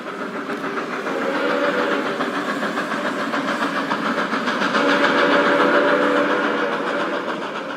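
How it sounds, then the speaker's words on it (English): A train pulls away at dusk toward the front, a steady rolling rumble of wheels and cars that holds loud and even throughout, with no voices over it. "The train jerked forward at dusk, heading south, toward the front."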